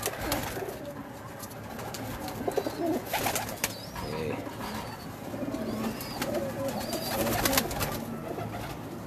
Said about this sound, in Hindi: ये बड़ा मेरा गोल्डन कबूतर है भाई।